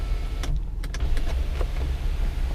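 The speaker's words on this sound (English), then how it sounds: "And then I guess the other one is the sunroof." A power sunroof on a 2016 Ford F350 Lariat 4x4 truck glides open with a steady electric motor whir and a few faint clicks, close and alone in a quiet cab.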